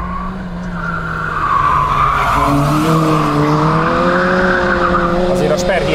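Rear-wheel-drive Toyota car driven hard on a race track, engine droning with rising revs and tyre squeal as it pushes through a corner, loud and steady with a voice faintly underneath.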